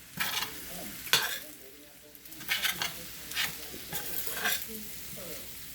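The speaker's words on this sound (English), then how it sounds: "That's about a good tablespoon of soy sauce." Shrimp, chicken and vegetables sizzle in a stir fry as a splash of soy sauce hits the pan, with bursts of crackling and stirring scrapes rising and falling close by, no talking.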